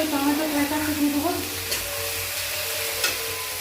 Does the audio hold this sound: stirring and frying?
yes